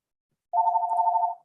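A mobile phone gives a single short, buzzing ring tone that pulses rapidly for under a second, alone in an otherwise quiet room.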